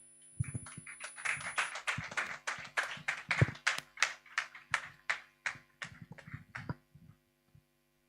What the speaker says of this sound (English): Please, a round of applause for her one more time.